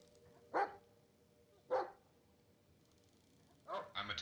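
A dog barks in the Blair Witch video game, three separate sharp barks spaced about a second apart, fairly close and clear against a quiet dark background.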